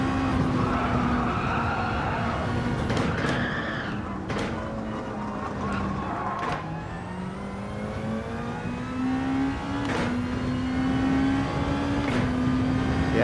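A car corners hard with its tires skidding and squealing while the engine drones at a steady pitch that rises and dips. The sound is loud and continuous throughout, with no talking.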